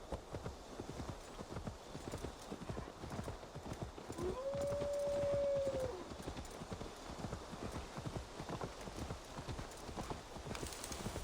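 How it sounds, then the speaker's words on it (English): A horse in Assassin's Creed Valhalla clip-clops along in steady, even hoofbeats that carry on throughout, with a brief low tonal cue partway through and faint talk underneath. "Still got some clippy clop sounds"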